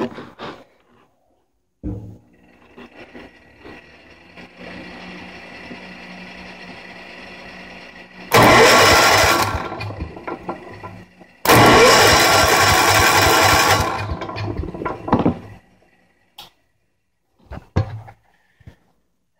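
A John Deere lawn mower engine cranks with a rebuilt Briggs and Stratton Kohler starter, catches and runs in two loud bursts separated by a pause, with quieter cranking and mechanical clatter before and after.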